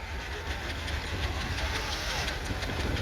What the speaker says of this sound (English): There's a Tasker Little Giant tractor